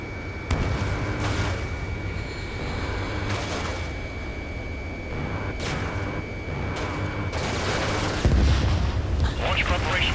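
A missile launch from an F-4E Phantom II in the combat flight game Ace Combat 7 bursts out as heavy booms and broadband blasts over a constant jet roar, with radio chatter in the mix and a loud whoosh near the end.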